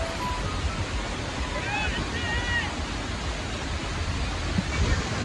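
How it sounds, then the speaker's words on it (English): The waterfall behind Pawana Dam, fed by water coming from Lohagad, gives off a steady, dense rushing roar that fills the whole stretch without letting up. "finally we found this waterfall behind Pawana Dam."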